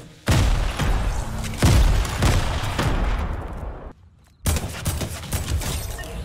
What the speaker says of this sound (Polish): Okej, po prostu rzucam tutaj granaty.